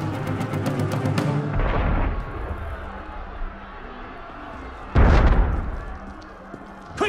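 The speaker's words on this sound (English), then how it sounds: "That was cannon fire." Cannon fire in Assassin's Creed Unity: a deep booming blast opens, then a second loud explosive boom hits midway, with crowd murmur and game ambience between the blasts.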